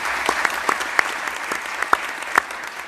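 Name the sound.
applause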